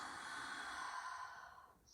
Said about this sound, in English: taking deep inhales through the nose and slow exhales